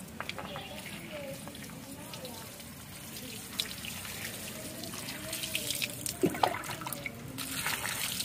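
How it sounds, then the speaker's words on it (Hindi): Water is poured while vegetables are washed outdoors in a village, a soft, fairly distant trickle and splash that grows louder near the end, with people chatting in the background. "मैं पानी डालती हूँ"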